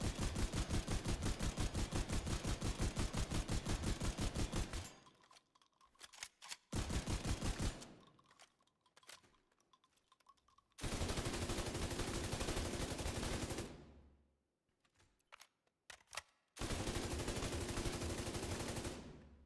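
Light machine gun in a video game firing long sustained automatic bursts, loud and close, broken by short pauses and quieter reload gaps between strings of fire.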